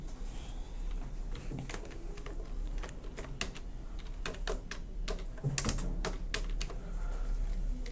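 Close keyboard typing in Photoshop, a steady run of sharp individual key clicks over a low hum, irregular in rhythm and spread across the whole stretch.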